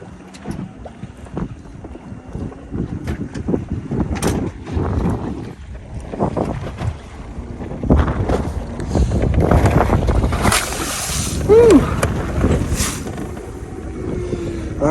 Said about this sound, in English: Man, wind's blowing probably about 12, 15.